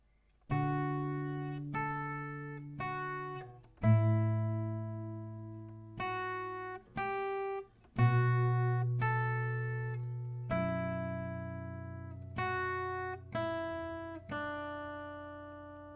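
Acoustic guitar strumming a slow chord progression from a song, each chord ringing out and decaying before the next, about a dozen strums with no voices.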